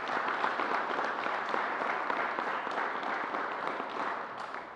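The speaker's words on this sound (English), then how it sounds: "So let's give New Yorkers a round of applause." A sustained wash of applause from a crowd at a government COVID briefing, steady and fairly faint, with no talking over it.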